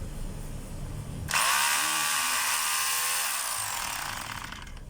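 A DeWalt D25032 rotary hammer starts up after a quiet moment and runs loud and steady with a high whining motor buzz, then tapers off slightly toward the end.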